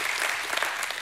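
A church congregation claps in a dense, steady burst of applause that fills the room, with no talk over it.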